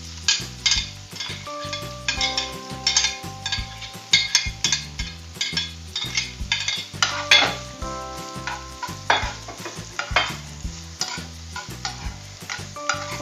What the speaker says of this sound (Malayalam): ഇതിലേക്ക് നമ്മൾ നേരത്തെ എടുത്ത് വെച്ചിരിക്കുന്ന സവാളയും കൂടി ഇട്ട് കൊടുക്കാം.